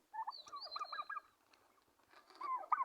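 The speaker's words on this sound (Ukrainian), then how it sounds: "Індюшка вона меншого розміру, а індюки більшого." Farm turkeys gobble in quick warbling bursts, a pause, then another burst of gobbling, fairly close and moderately loud.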